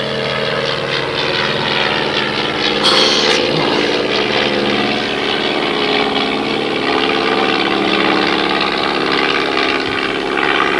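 A small propeller airplane climbing after takeoff gives a loud, steady engine drone that stays constant and fills the whole stretch, with no speech over it.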